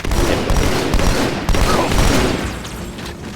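A new gun fires in Halo 2 with loud, dense bursts of rapid gunfire close up, repeating in rapid volleys with a sharp break midway and tailing off toward the end.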